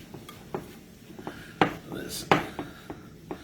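Oatmeal cookie dough creamed by hand with a wooden spoon in a bowl, giving irregular soft knocks and scrapes, quiet and close, under occasional talking.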